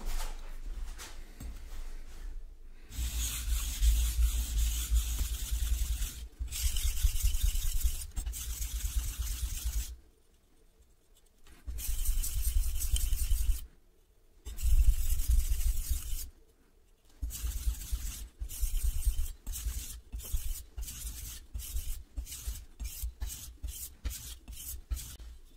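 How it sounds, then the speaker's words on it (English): A knife is sharpened on a 1000 grit whetstone, with close, scraping strokes in long passes broken by short pauses, quickening into rapid short strokes near the end, with no talking. "now we're going to do this exact same process on the 1000 grit"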